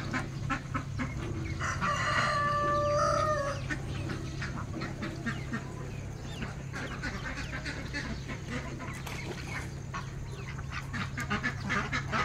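Peking duck breeder flock in a Villasis, Pangasinan pen, a loud burst of quacking and clucking up close, followed by scattered calls and bird chatter over a steady low hum.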